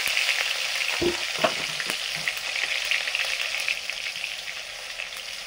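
Whole cumin, dried red chili and chopped tomato fry in hot oil for a potato curry, a steady close sizzle with a few scraping stirs near the start.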